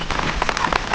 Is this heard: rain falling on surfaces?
yes